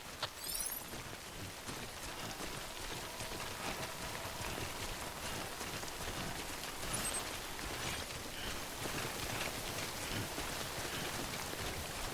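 Steady rain in the Death Stranding video game hisses evenly and fairly faintly throughout, a dense wash of drops with no voices over it.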